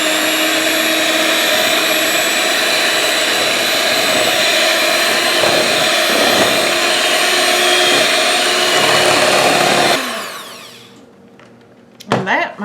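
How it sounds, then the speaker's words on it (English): An electric mixer whirs loudly and steadily through buttermilk pie filling with vanilla, a constant close high whine for about ten seconds before it winds down, followed by a brief clatter. "we're going to mix this up"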